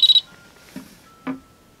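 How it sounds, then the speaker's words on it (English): An electronic safe keypad gives two quick, sharp beeps after a code is entered, followed by two soft thuds of handling in a quiet room. "Okay, so it beeped."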